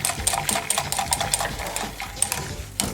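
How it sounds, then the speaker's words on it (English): A whisk beats a wheatpaste mixture in a bowl, giving rapid rhythmic scraping and clattering strokes that run close and continuous for a few seconds with no talking. "we want to whisk, whisk, whisk again"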